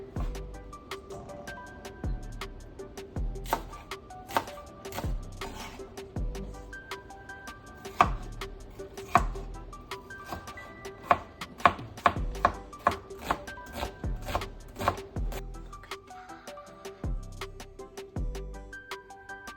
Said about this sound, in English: I want to chop everything to about the same size